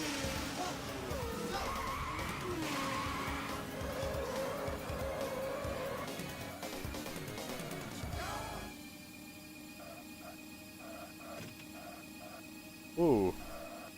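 A race car in the Virtua Racing video game drives the Big Forest course, its engine droning and tires squealing through corners, then quieter game tones and a brief sharp sound near the end.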